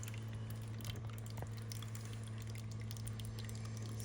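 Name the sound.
water dripping one by one from small waterfall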